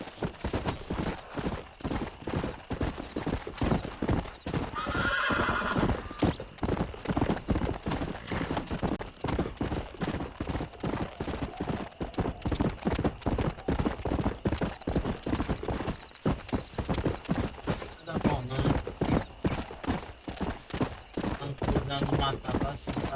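A horse gallops in Red Dead Redemption, hooves clip-clopping in a fast, steady rhythm close by throughout, with a brief whinny early on.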